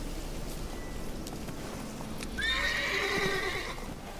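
A horse in a video game gives a single loud, wavering neigh partway through, over a steady low background hum.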